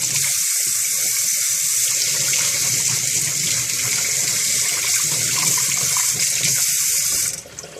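Tap water runs hard into a kitchen sink to cool a freshly fried egg, a steady loud gush that continues unbroken for several seconds before cutting off abruptly near the end.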